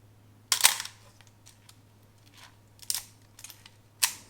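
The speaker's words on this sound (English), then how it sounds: "they both have a Copal vertical electronic shutter" The Copal vertical electronic shutter of a Minolta XD7 film camera fires several times, each a crisp, close mechanical snap, spaced irregularly over a low steady hum.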